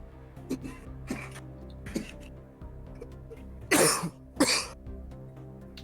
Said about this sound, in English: I'm sure you can tell I'm back now from my coughing.